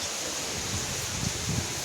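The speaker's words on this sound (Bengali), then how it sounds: "আমি এখন যেতেই পারবো না, বিশাল হাওয়া দিচ্ছে।" Strong wind blowing across a balcony during a storm, a steady broadband roar close to the microphone with slight buffeting, heard alone for a couple of seconds.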